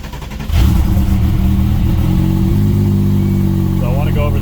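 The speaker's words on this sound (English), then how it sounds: "Crank the starter." A 2001 Porsche 996 Turbo cranks on its starter and catches after about half a second, then settles into a loud, steady idle close by with a slight rise in pitch.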